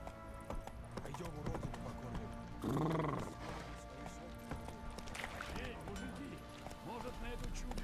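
Horse hooves clip-clopping in a steady trotting rhythm in The Witcher 3: Wild Hunt, with a brief whinny midway, game music and ambience underneath.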